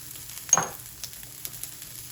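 Seasoned sausage frying in a pan with pepper, garlic and onion powder, a soft sizzle under a brief scrape of stirring, followed by faint light clicks.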